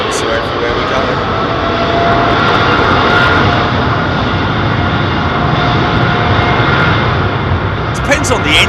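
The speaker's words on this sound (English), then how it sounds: "Depends on the engines, actually, doesn't it? In terms of the power settings and the noise that they deliver." Airliner jet engines at London Heathrow Airport roar steadily and loudly throughout, a continuous broad rumble with people talking over it.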